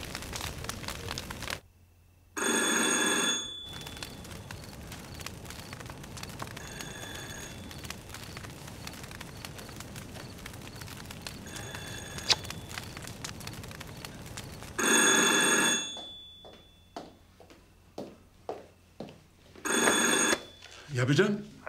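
A telephone bell rings indoors in several loud bursts with silent gaps and short pauses between them, alone with no voices over it.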